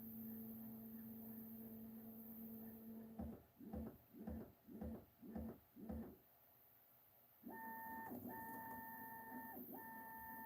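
A Bambu Lab X1 Carbon 3D printer runs resonance tuning, holding steady electronic tones, then buzzing in five rapid rhythmic bursts, pausing, and resuming with higher sustained hums.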